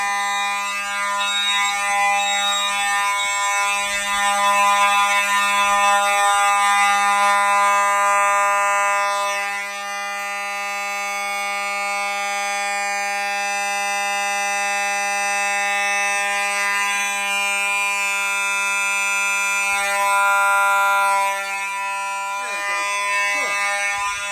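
Home fire alarm system sounding after a smoke test: a loud, steady electronic alarm tone rings continuously and close, dipping briefly midway before carrying on to the end, with faint talk underneath.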